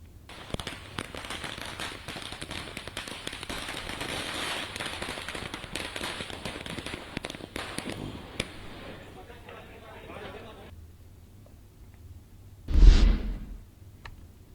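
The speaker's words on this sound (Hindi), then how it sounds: "घर के बाहर जमकर आतिशबाजी की गई" Continuous crackling and popping of firecrackers and fireworks set off outside a house fills the air, fading out before one loud, sharp burst near the end.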